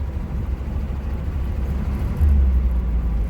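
A worn 1986 Oldsmobile Cutlass pulled from a junkyard rolls along with a steady low rumble and road noise, swelling slightly louder near the end.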